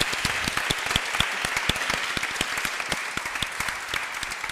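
An audience at the Filme Ton Job 2022 award ceremony applauds, a steady dense patter of many hands clapping at close range, continuous and even throughout.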